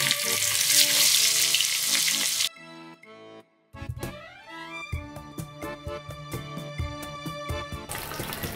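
Marinated fish pieces dropped into hot oil for a Telugu-style fried fish, a loud hiss of frying that cuts out briefly, then returns as crackling sizzle with sharp repeated clicks and spatters, no voices.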